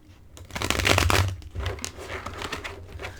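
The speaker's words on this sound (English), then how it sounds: "Let me shuffle these cards and get them set up for your one-on-one spread." Close-up papery riffling as a deck of cards is shuffled, two quick rustling bursts in a quiet room.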